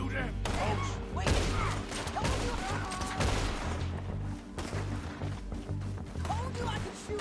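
Rapid bursts of gunfire in the Western shootout game Red Dead Redemption 2, loud and close, with repeated sharp shots over several seconds mixed with game voices talking.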